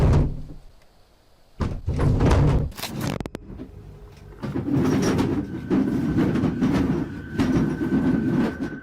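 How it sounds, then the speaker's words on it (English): Dishes rattle and clatter inside a closed cupboard: a loud burst of racket, a short pause, then a sustained rumbling jostle that continues to the end, with no voices. "It sounds like all the dishes inside are jumping around."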